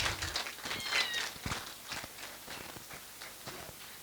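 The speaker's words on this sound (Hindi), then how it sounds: "बिल्ली आ गई।" A cat wanders into a children's storytelling session at a literature festival and lets out a faint, brief meow amid quiet room noise and light shuffling.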